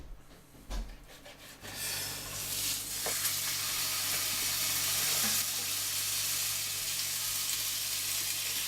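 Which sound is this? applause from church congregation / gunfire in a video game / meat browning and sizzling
meat browning and sizzling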